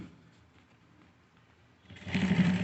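A sewing machine stitches the joint of a formal pant, coming in as a short, fairly loud mechanical whir near the end after a couple of seconds of near silence.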